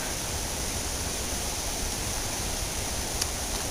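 Steady broadband rush of a river flowing beside the Great Falls trail near the C&O Canal, a constant, even roar of moving water with no talk.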